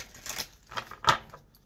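Tarot cards shuffled by hand in a few brief, soft riffling bursts, the last one the sharpest, with quiet pauses between.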